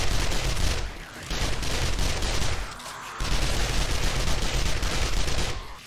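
Sustained automatic machine gun fire in the 7 Days To Die zombie game, a dense rapid rattle with two brief pauses between bursts, loud and continuous with no talk over it.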